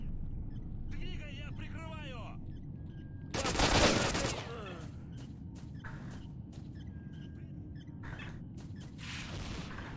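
Automatic gunfire in the video game S.T.A.L.K.E.R. Shadows of Chernobyl: one loud, dense burst of shots near the middle, then several short sharp cracks, over steady game ambience with chirping and voice-like sounds.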